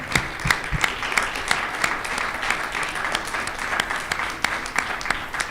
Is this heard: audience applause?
yes